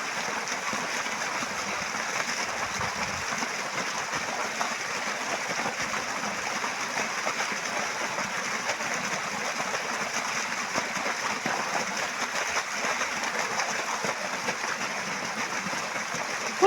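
Irrigation water flowing steadily through a channel in a field planted with sugarcane and sweet corn, a continuous close rushing gurgle at even loudness throughout, with no voices.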